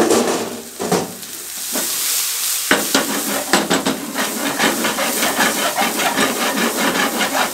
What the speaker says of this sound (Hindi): हाई फ्लेम पे 1 मिनट इनको फ्राई करना है।